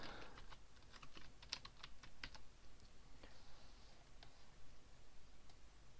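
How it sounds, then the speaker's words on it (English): Steady typing on a computer keyboard while entering text into a WordPress post, with quick irregular clicks and a few sharper key strikes over a faint background hiss, close and fairly quiet, no talking. "I'm going to type a bit of text in"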